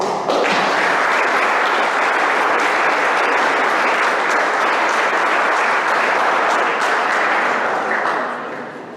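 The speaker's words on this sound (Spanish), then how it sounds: "Démosle un fuerte aplauso, por favor." A large audience applauds at a formal academic induction ceremony on sugarcane cultivation in the Autlán valley, a loud, dense, steady wash of clapping that holds for about eight seconds before fading slightly at the end.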